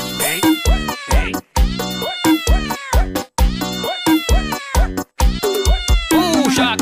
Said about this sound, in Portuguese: Tem que dar um jeito com esses gatos aí em cima do telhado